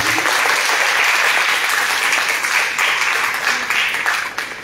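Strong, dense applause from a music concert audience, steady and loud for several seconds before tapering slightly toward the end, with no talking over it.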